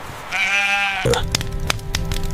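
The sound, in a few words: sheep and goats bleating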